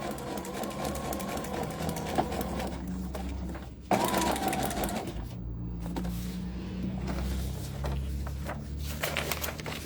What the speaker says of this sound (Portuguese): eu consigo ver bem direitinho onde eu tô costurando